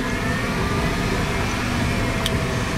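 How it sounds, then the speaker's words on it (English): A loud bus passes nearby on a street, producing a steady engine roar that fills the whole stretch with no talking. "Ooh, that bus is loud."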